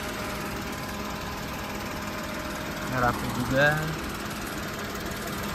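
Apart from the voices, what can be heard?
Daihatsu Ayla car engine idling with AC on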